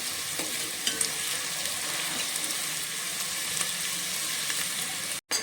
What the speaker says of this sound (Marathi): कांदा आता पूर्ण चांगला आपण आता भाजून घेऊया